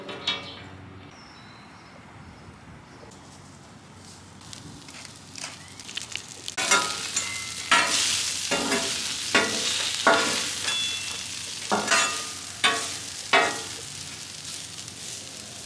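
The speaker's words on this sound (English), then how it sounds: "I got the onions going on medium heat right in the middle" Onions sizzle in oil on a Traeger Flatrock griddle over medium heat. A soft, steady hiss runs underneath a series of sharp, rhythmic scraping strokes from a spatula, close and fairly loud, with no talking.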